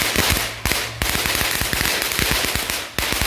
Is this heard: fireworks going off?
yes